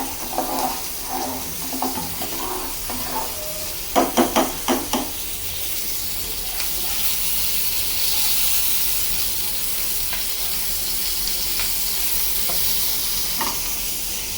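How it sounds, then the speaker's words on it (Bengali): Mashkalai dal being tempered for a baghar in a home kitchen, with a few sharp stirring clanks near the start and then a loud, steady frying sizzle and hiss that continues to the end. "ডালটা বাগার দিয়ে দিছি"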